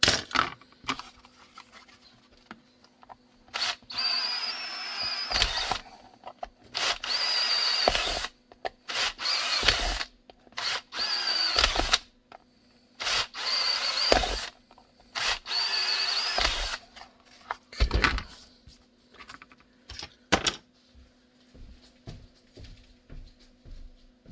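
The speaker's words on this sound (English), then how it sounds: "Dremel." A Dremel rotary tool whines in repeated bursts of a second or two, separated by short pauses and small clicks and knocks, close and fairly loud in a quiet room.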